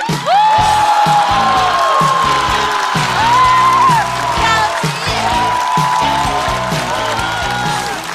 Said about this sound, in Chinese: 让我们掌声欢迎第3赛段最后一位上场的小齐